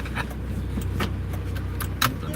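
A noisy car cabin rattles and hums continuously, with a low engine drone under repeated clicking and jangling knocks from loose parts, plus a sharper clunk near the end.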